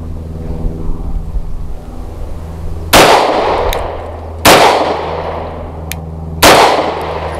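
Three sharp, loud pistol shots from a CZ 75 BD firing Federated Ordnance 124 grain ball ammunition, spaced about a second and a half to two seconds apart, each with a brief ringing tail over a low steady hum.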